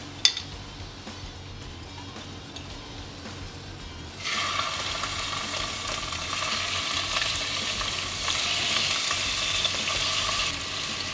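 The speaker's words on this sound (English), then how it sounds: "I want to get a nice browning on this meat without too much liquid" Beef browning in olive oil in a pot, with a quiet start that jumps at about four seconds into a loud, steady sizzle and crackle of meat frying, with occasional stirring.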